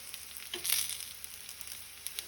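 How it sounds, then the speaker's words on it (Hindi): Colocasia leaf rolls (patrode) shallow frying in oil, a steady soft sizzle with brief louder crackles near the start, heard alone without speech. "अच्छे से फ्राई करूँगी।"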